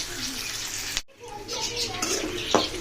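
Onions and chilies sizzle in hot oil, a steady close frying hiss with stirring clatter, while someone talks over the cooking.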